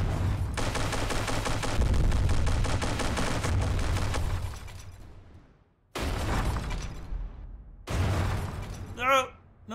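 Sustained gunfire crackles through a naval battle in From The Depths, a dense roar of rapid shots for several seconds, then shorter bursts after brief gaps and a whistling, wavering tone at the end.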